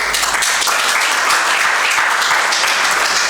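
Audience applause for participants at the Balade des génies 2024 contest between Lycée Blaise Diagne and Lycée Birago Diop, a dense steady clapping from a large crowd filling the whole moment at full loudness.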